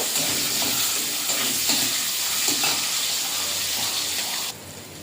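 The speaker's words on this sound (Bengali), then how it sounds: "পেঁয়াজটা ভাজা ভাজা করে নেব।" Chopped onion fries with black cumin in hot oil, giving a steady close hiss and sizzle with faint stirring scrapes, before the sound drops abruptly near the end.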